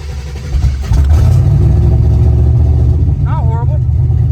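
A car engine cranks and catches, then settles into a loud, close rumble with rising revs toward the end, heard without talk.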